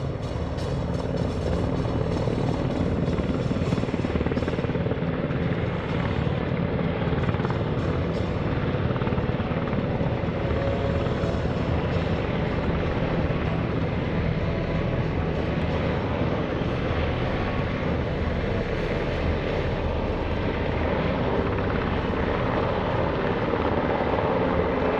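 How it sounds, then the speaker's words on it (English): UH-60 Black Hawk helicopters approaching a drop zone at an air show open house, a loud, steady rotor and turbine roar that stays constant throughout with no talk. "The UH-60s will now approach the drop zone and get ready to extract members of the 227th Air Support Operations Squadron."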